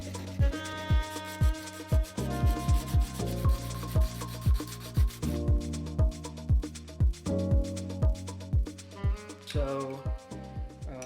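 A handmade camping knife gets its final polishing and refining, heard as repeated short rubbing strokes in a fairly regular rhythm, close and moderately loud, with tonal musical background throughout.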